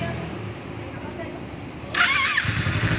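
A motorcycle engine starts up after a quiet stretch, catching abruptly and settling into a steady running note, close by and fairly loud.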